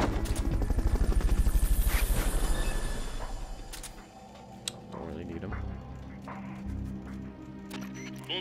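A loud, pulsing helicopter rotor drone fades away over several seconds, followed by quieter clicks and scattered noises with a voice speaking.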